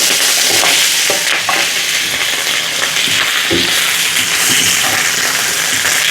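Shrimp sautéing in a hot wok outdoors for ginataang langka: a loud, continuous sizzle fills the sound, with scraping stirs and occasional knocks of the utensil against the pan.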